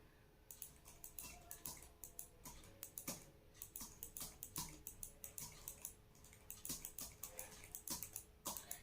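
Rapid, uneven keystrokes clatter on a computer keyboard while text is typed into a Microsoft Word table, close and fairly quiet with no talking.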